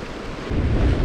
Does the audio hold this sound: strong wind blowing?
yes